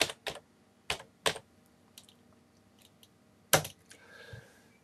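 Sparse, quiet clicks of typing on a computer keyboard, a handful of separate keystrokes with pauses between them, close up and with no voices.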